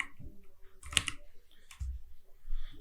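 Quiet computer keyboard typing while writing code in an IDE: a few sparse, crisp key clicks with short gaps, close and soft, with no talking.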